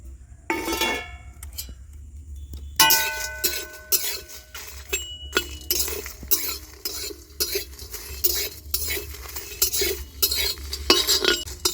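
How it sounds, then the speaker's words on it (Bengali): Whole spices dry-roasting in an unoiled pan over a lit stove for chicken pulao, with steady scraping and stirring strokes of a metal spoon, clinks against the pan and a light crackle, close and continuous. "এইগুলো সব শুকনো খোলায় প্রথমে ভেজে নেব। তো উনুন ধরিয়ে নিয়েছি, এইবার সব মশলাগুলো ভালো করে ভেজে নেব।"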